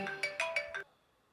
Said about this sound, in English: I had a phone call I had to take.